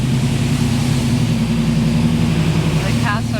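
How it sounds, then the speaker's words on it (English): A noisy vehicle engine idling at the roadside during a tyre fault, a loud, steady low drone that continues throughout, with a voice briefly heard near the end. "The car's so noisy."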